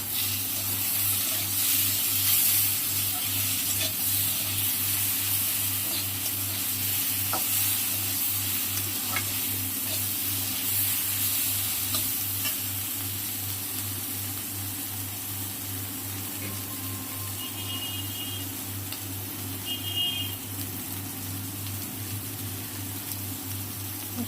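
Pre-fried shrimp stir-frying in a pan with taro stolons and jackfruit seeds, a steady close sizzle that runs throughout over a constant low hum, with a few light stirring clicks.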